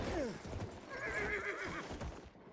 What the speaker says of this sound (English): Enemy horse.